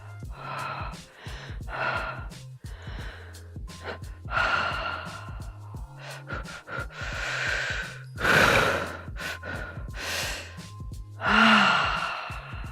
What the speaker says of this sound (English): Really take a breath and try different breathing.